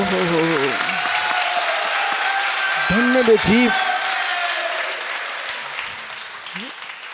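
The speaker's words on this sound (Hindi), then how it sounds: "बेटा बजा लो आदिनाथ के चरणों में" Devotees at a Jain temple ceremony honouring Bade Baba clap in a steady wash of applause, while voices sing or chant over it in short phrases and the clapping slowly fades.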